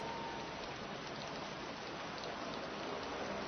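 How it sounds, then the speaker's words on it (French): Steady, dense rain pattering without a break, a continuous wash of drops on surfaces with no voices. "Ah, il pleut."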